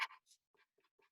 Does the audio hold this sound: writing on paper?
yes